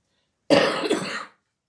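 A single short cough, close and sharp, rising from silence and trailing off after about a second.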